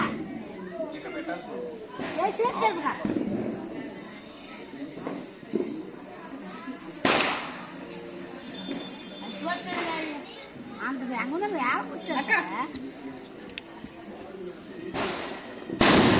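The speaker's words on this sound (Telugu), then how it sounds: "అవే బాంబులు చూసావా?" Firecrackers go off in sharp, scattered bangs at intervals, mixed with excited chatter and voices of people nearby.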